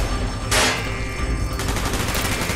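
Dense gunfire in a Call of Duty game at a Soviet missile base goes on throughout, with one sharp loud shot standing out over steady rattling fire.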